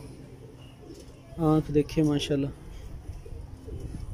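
A breeder's pigeon gives a few soft, low coos in a short burst, close by, while someone talks nearby.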